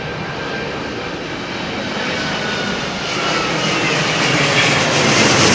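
A Turkish Airlines jet after landing at London Heathrow, its engines spooling up as the throttle opens; a broad, steady roar that slowly swells louder, with no voices over it.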